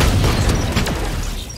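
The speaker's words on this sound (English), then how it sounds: "He got me with a grenade?" A grenade blast in the tactical shooter Valorant, a loud dense booming rumble that fills the whole moment and trails off slightly, with no voices over it.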